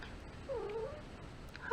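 A short, soft meow from a cat, fairly close, followed by a brief brighter sound at the very end.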